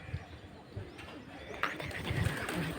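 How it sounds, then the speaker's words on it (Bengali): Pigeons coo softly from a flock gathered on a rooftop, low and faint against a steady outdoor background of rustling and distant noise. "দেখো কত পায়রা ঝাঁক এসছে আমার ছাদে"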